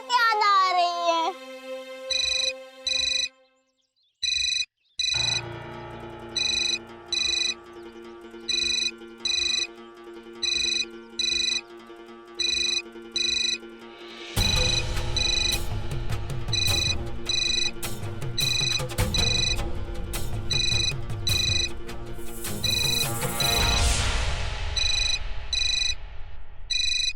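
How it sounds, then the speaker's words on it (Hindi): A mobile phone ringtone plays in a Hindi TV drama scene, a bright repeating electronic melody in regular bursts that later turns into a fuller, louder musical ring, with no one speaking over it. "मेरा फोन यहाँ क्या कर रहा है और इसमें से आवाज कैसे निकल रही है?"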